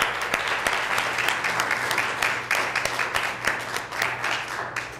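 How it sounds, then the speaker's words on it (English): An audience at a 2012 Oakdale city council candidate forum applauds, a dense, steady wash of many hands clapping close and loud throughout. "Let's give them a round of applause."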